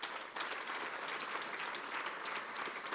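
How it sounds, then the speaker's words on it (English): Applause at a graduation ceremony, a dense, continuous wash of many hands clapping from a large crowd, steady and moderately loud throughout with no voices on top. "give another warm round of applause"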